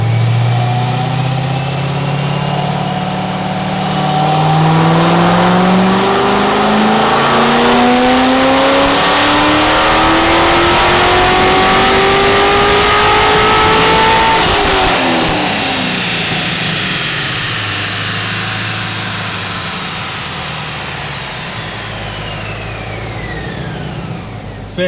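A 2022 Suburban fitted with a Corsa exhaust and a stage 3 427 engine makes a loud, close dyno pull, the engine note climbing steadily through the rev range for about fifteen seconds before dropping back as it coasts down.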